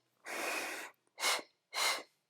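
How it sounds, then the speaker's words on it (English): Forceful breaths during a Pilates abdominal workout: one long breath followed by two shorter sharp exhales, close and clear, each separated by brief silence. "Exhale, exhale, inhale."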